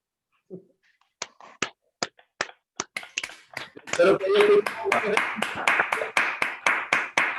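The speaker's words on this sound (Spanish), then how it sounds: "solicitarles un aplauso a la distancia" A few isolated hand claps start slowly, then build into a burst of steady applause from a small group, close and lively.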